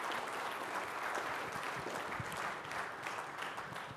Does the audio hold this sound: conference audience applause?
yes